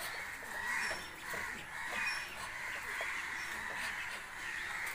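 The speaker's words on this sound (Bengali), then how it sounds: "এই যে এগুলো হাঁস আছে" A flock of Chinese ducks, including ducklings, on a duck farm in Assam quack and chatter in an overlapping, moderately distant chorus that rises and falls in soft waves.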